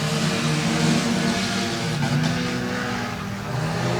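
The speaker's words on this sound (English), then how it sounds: "She is flying down the backstretch trying to catch the number 5 once again." Race cars speeding around a dirt speedway track, with a loud, continuous multi-engine roar and a sustained, slightly wavering pitch as the cars run together.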